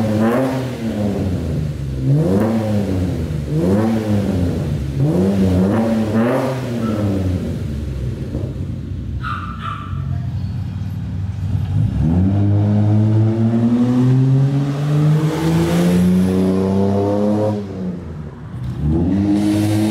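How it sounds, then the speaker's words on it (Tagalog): A BMW 525i with a modified exhaust revs in a string of rhythmic blips, then climbs in one long, loud sweep of rising engine pitch before easing off, heard close with no talk. "i-preview na natin kung ano magiging tunog ng BMW"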